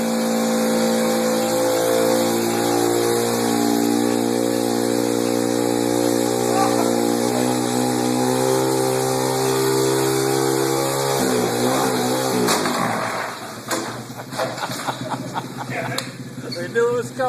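A pit bike engine runs on a roller treadmill with a loud, sustained buzzing whine that holds steady, then drops and sputters away near the end, leaving rattles and clatter.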